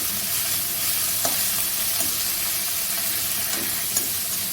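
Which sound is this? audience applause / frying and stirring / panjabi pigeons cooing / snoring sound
frying and stirring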